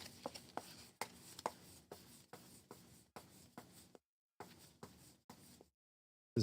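Deck of cards for the Veilwraith board game being shuffled by hand in a series of sharp riffles and snaps, close and fairly loud, with brief pauses between passes.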